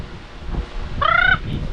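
A chicken gives one short, harsh squawk partway through, standing out over quiet background noise.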